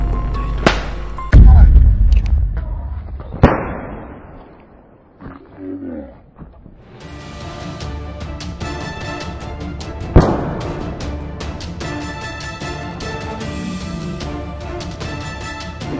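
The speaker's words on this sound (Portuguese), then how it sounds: "Tem gente dando um tiro aí, pô." Gunfire goes off nearby outdoors, sharp loud reports near the start and another bang around ten seconds in, followed by sustained noisy commotion.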